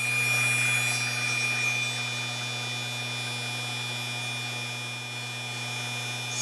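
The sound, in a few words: 775 DC motor running at 24 volts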